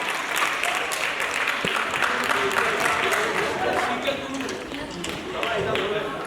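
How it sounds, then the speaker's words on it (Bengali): An audience claps at a Bengali stage function after a call for louder applause, the sound broad and steady across the whole stretch, with a sharp thump partway through and some crowd murmur mixed in. "একটু করতালি আরো জোরে হোক"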